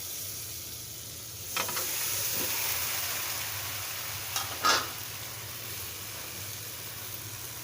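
Malabar spinach goes into a sizzling pan of bata fish curry, a close, steady fry with a couple of brief clattering bursts as the greens are stirred in, with no voices.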